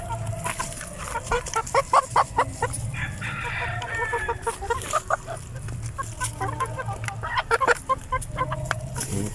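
Several Rhode Island Red roosters cluck and crow repeatedly in a coop, with overlapping calls close by at moderate loudness and a steady low background hum throughout.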